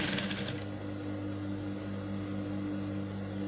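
Sewing machine stitching a corset basque seam over pins, set to 0.5: a steady, continuous motor whir with a low hum, running close and evenly for several seconds with no talk.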